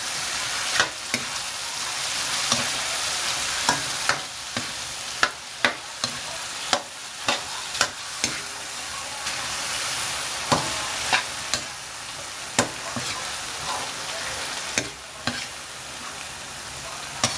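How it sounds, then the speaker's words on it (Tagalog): Shrimp paste (alamang) stirred into pinakbet vegetables frying in a pan: a continuous sizzle punctuated by regular sharp clicks of a utensil against the pan, close and prominent with no talking. "lalagyan na natin yung ating alamang. Ayan, alamang. Alamang, halo-halo na natin."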